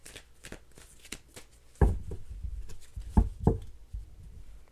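Tarot cards are riffled and shuffled nearby in a few quick bursts, with soft taps and flicks between them.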